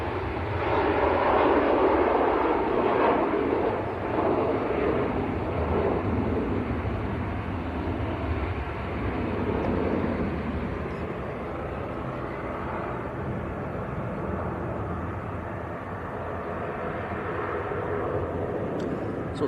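An 11-year-old TUI Boeing 787-8 lines up on the runway at Manchester Airport for a flight to Gatwick. Its jet engines give a continuous moderate roar that is strongest early and then settles into a steadier, slightly softer hum.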